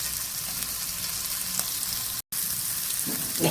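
Prawns coated in spicy, tangy masala fry in a pan with a continuous close sizzle and light crackling, broken by a brief moment of silence, with no talking.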